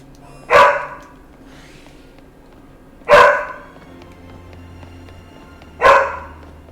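A dog barks three times, single loud, sharp woofs spaced a few seconds apart and fairly close, with a quiet indoor background between them.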